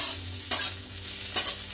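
Capsicum and beans stir-fried in a pan, with two quick scraping spatula strokes over a soft, steady sizzle.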